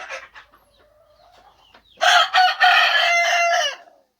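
Chickens in a coop holding crested hens: a few soft clucks and a thin call, then a loud, close rooster crow that rises in bursts and holds for over a second before fading.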